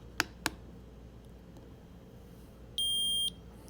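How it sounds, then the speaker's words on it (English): A Keto-Mojo meter switched on by its front button gives one short, clean electronic beep in a quiet room, preceded by two faint clicks of the button press. "I'll turn the Keto-Mojo on by pressing the button on the front of it."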